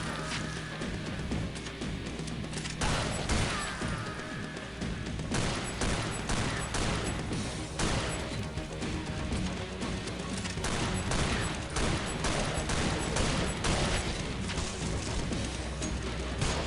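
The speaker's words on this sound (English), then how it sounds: "I feel like the hand cannon's rate of fire might be increased in this version." A hand cannon fires repeatedly in the video game Killing Floor (KF Mod 2.0): rapid, dense, loud shots in a continuous volley, layered over busy game sound.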